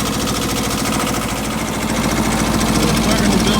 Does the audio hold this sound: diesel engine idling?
yes